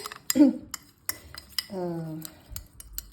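Seeds stirred with water in a bowl for homemade energy bars, close metal spoon clinks and scrapes against the bowl at an uneven rhythm with a brief ringing tone, and a voice speaking softly underneath.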